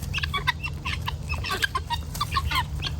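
Pet chickens clucking close by, a run of short, repeated clucks and chirpy calls from several birds over a low steady hum.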